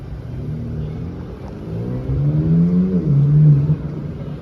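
A Chevrolet Corvette C7 with carbon fibre parts idles with a low rumble outdoors at night in Marbella, then its engine note climbs in a rising rev and settles into a louder, throaty drone, close by.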